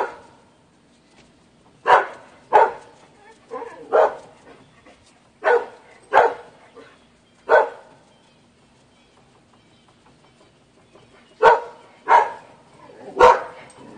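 A dog barking in a nearby room, scattered single and paired sharp barks spread across a quiet stretch, moderately loud.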